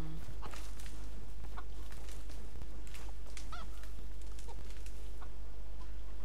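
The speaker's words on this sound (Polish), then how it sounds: "Kurczaki." Chickens cluck and honk-like calls sound in the Tomb Raider (2013) video game, scattered over a dense, constant background rumble of ambient game noise.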